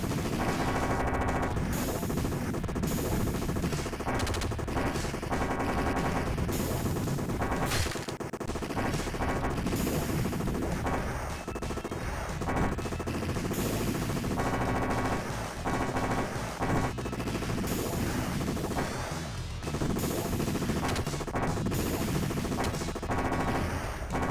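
Video game gunfire rattles almost without pause: dense, loud bursts of rapid shots and crashing impacts run throughout, with no gaps.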